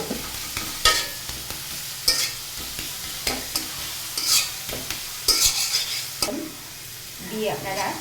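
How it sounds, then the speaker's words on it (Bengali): Red amaranth greens being stirred in a hot pan, a soft continuous sizzle with repeated scraping strokes of a spatula against the pan at a close, moderate level. "এবারে এটাকে ভালোভাবে নেড়ে চেড়ে পরে নামিয়ে নেব।"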